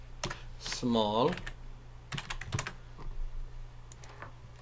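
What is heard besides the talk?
typing on a computer keyboard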